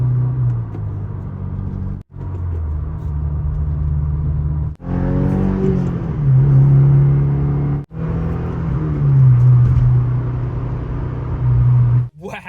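A 2022 Subaru WRX fitted with a transmission mount and positive shift kit drones steadily while driven, the engine note breaking off briefly at each of several gear changes before rising again.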